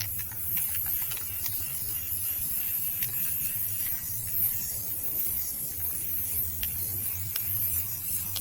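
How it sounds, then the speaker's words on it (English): A steady hiss of an aerosol spray paint can spraying continuously outdoors onto rusted weights, fairly faint, with light rustling and clicks in the background. "Just make sure spray it and move, spray and move."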